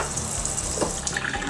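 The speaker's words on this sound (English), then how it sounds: "fill it up with some water" Tap water running steadily into a rice maker pot, a close, even gushing stream that shifts slightly in tone as it fills.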